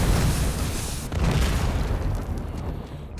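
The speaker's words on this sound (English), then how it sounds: "Explosions." Explosions in a video game, a dense, loud rumbling burst of booms that fills the whole clip and fades slightly toward the end.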